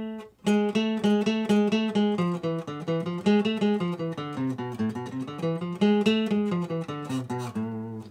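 A guitar plays a harmonic minor scale with a raised seventh, a steady run of plucked single notes moving up and back down, close and clear with no talking.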